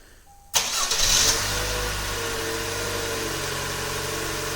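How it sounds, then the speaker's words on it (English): A 2019-2023 Toyota RAV4 engine, triggered by remote start, cranks and catches with a sudden roar, revs briefly, then settles into a steady idle. "This will trigger remote starting."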